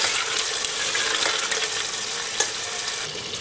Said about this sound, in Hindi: मटन को अच्छी तरह भूनना है